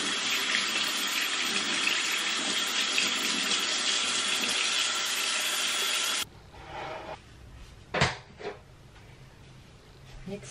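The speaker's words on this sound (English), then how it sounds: "Wash my hands." Tap water runs steadily into a sink as hands are washed, a loud continuous rush that stops abruptly, followed by a few faint splashes and clatters.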